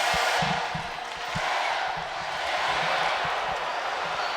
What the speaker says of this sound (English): Hometown crowd cheering on their team.